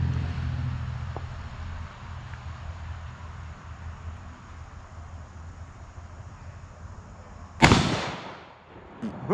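A single sharp, loud rifle shot from a Remington 770 chambered in .308 firing an armor-piercing round at Level III body armor on a shooting range, cracking out after several seconds of quiet outdoor rumble and then fading away.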